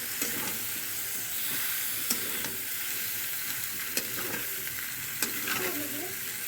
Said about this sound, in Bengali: এবার এর মধ্যে আমরা পাস্তাগুলোকে দিয়ে দিলাম, দিয়ে এটাকে ভালো করে নাড়িয়ে নিচ্ছি।